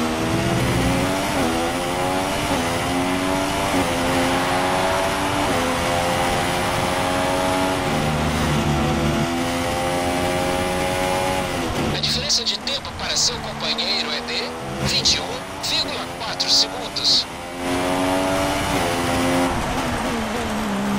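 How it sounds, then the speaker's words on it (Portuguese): Engine roar of an F1 race car in the F1 2016 video game during a career race at the Russian Grand Prix, a loud continuous high-revving whine rising and falling through gear changes, with sharp bursts near the middle. "Deixei vocês ouvindo um pouco aí o ronco do motor."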